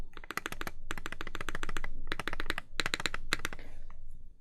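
Fast typing on a Mode 80 TKL mechanical keyboard with an aluminum plate, dense bursts of crisp clacky keystrokes in uneven runs with short gaps, close and clear with no talk.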